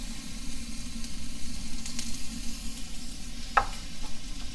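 Steady sizzling from a hot pan as celery, carrots and cabbage go in for Filipino pancit, with light stirring scrapes and a small clink over constant frying hiss.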